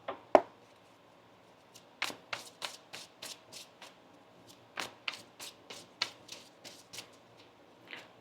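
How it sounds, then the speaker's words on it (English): Tarot cards being shuffled by hand, a run of quick crisp riffles and taps close up, with brief pauses between bursts. "One more shuffle here."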